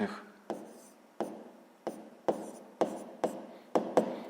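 A pen writes fractions on paper for a sixth-grade math exercise, with close, faint strokes in a steady series of about eight short scratches and taps.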